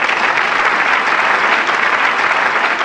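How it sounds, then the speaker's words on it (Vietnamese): Dense, continuous applause from a studio audience at a televised Vietnamese quiz show, loud and close, with no voices standing out. "Mời quý vị hãy dành những tràng pháo tay nồng nhiệt cổ vũ tinh thần cho 26 thí sinh."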